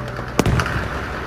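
A grenade goes off in Battlefield 5, a single sharp blast that thumps and then fades quickly over a steady background hum of the game.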